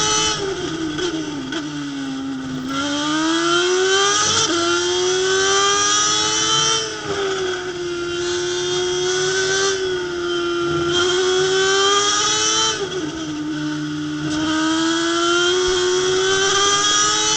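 Comma SRF3 race cars blast around Hallett circuit with engines held at high revs, a loud continuous drone whose pitch rises and dips through gear changes and corners, close and steady throughout.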